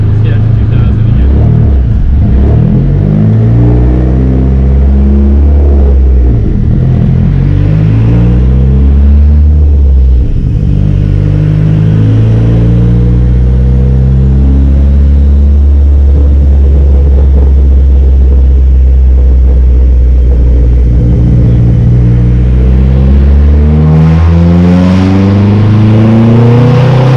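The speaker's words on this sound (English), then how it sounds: "We're going to do a third gear, go back to fourth gear." A big-turbo Dodge SRT-4 engine on a dyno pulls through repeated rising revving sweeps, a loud deep droning roar that climbs in pitch several times with brief drops between runs.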